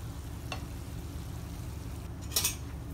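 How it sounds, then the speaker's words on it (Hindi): A pan of Singapore-style rice with oyster sauce being stirred and mixed, giving a low steady sizzle with two brief metallic clinks of a spoon against the pan. "अब हम इस सबको मिक्स करते हैं"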